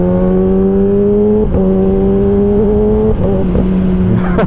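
A 2016 Kawasaki ZX-10R motorcycle engine revs loudly and steadily close by, holding a high whining pitch, with quick throttle blips at about one and a half and three seconds.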